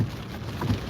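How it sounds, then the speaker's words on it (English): Hard rain pours down during a dark Indiana storm while chasers are parked, a dense steady patter on the vehicle with no voices. "hard rain in certain places."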